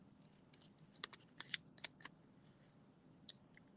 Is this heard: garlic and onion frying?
no